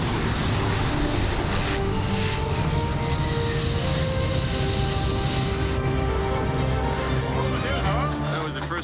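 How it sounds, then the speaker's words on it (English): A bush plane landing on snow on a frozen Canadian river: a loud, close, steady engine drone with a high propeller whine that slides down in pitch, then shifts as the aircraft settles. "That was the first time I see a plane landing on snow."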